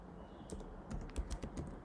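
Keys tapped on a computer keyboard while entering code for a SwiftUI iOS app, a quiet irregular run of light clicks at close range with no voices.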